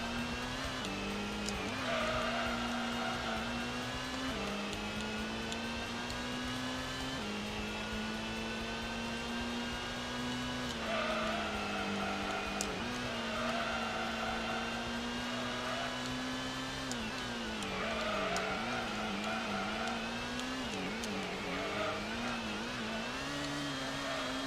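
A race car engine in Gran Turismo 1 drones loud and continuous, its pitch rising through the gears, dropping at each shift, then climbing again.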